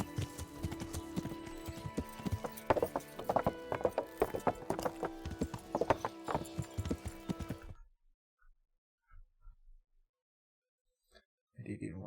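Horse hooves clip-clop steadily in the medieval video game Kingdom Come: Deliverance, with a whinny mixed in, then stop abruptly into near silence before faint sounds return at the end.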